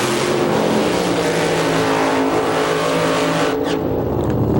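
Alcohol funny car drag racers roar down the strip in an IHRA national event final, a loud sustained wall of engine noise that fades off near the end.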